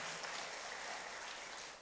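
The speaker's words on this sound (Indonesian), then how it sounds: "Tepuk tangan bagi Tuhan Yesus." A congregation at an Indonesian GBI church service applauds for Jesus in a brief, even burst of dense clapping that carries right through without pause and tails off slightly at the very end.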